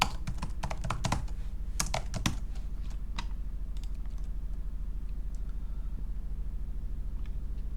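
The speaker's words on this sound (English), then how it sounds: "I can type it out." Computer keyboard typing: a quick cluster of crisp key clicks in the first few seconds, then only a few scattered taps over a low, steady background hum.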